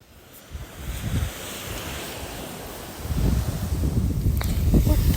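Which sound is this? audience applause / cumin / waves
waves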